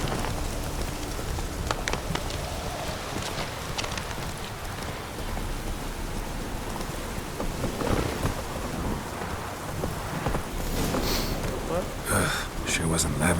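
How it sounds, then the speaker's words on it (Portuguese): Thunderstorm in The Witcher video game: steady heavy rain hisses throughout with rumbling thunder, and a louder crackling burst near the end. "e essa trovoada do nada?"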